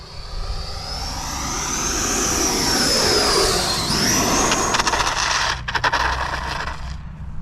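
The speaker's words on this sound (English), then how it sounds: "Scraped it up real good." An E-flite Viper 90mm turbine RC jet lands low with its turbine whining and its airframe scraping along the ground, a loud steady roar that rises and falls, then rough, crackling scrape bursts near the end.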